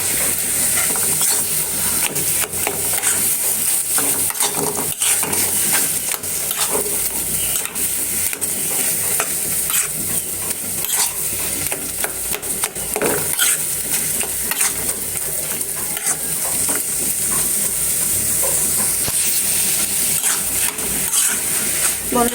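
Mashed ash gourd leaves fry in hot oil with a loud, continuous sizzle, while a utensil stirs and scrapes the pan throughout in an uneven, clattering rhythm.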